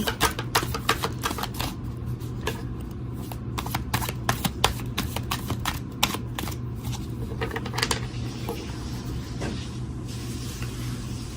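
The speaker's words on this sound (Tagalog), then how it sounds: "Balasahin po natin mabuti." A deck of playing cards is shuffled close up in fast repeated riffles, a dense run of crisp flutters over a steady low hum, with no talking.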